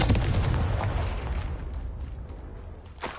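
A Confringo fire spell exploding in Hogwarts Legacy, a booming blast with a rumbling low roar that decays over a few seconds, followed by a faint sharp crackle at the end.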